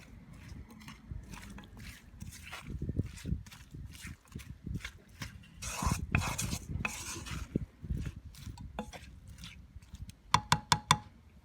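Onions and salt stirred in a pan, giving repeated scraping, shuffling strokes with light sizzling, loud and close, ending in a few sharp metallic taps of the utensil on the pan.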